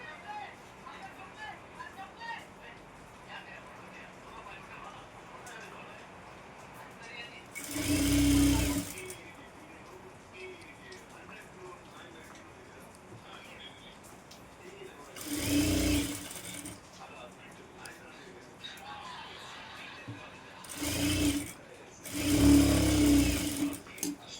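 Sewing machine stitching a folded double hem on the front of a golden blouse, running in four loud bursts of a few seconds each against quiet room noise, with soft talk between runs.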